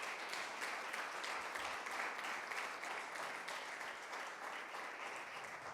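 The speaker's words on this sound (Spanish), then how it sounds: "yo creo que Dios se merece un fuerte aplauso" A church congregation applauds in a steady, dense wash of clapping that runs throughout, fairly distant and even in level, with no voices rising above it.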